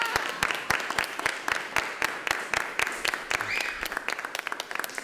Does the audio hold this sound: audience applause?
yes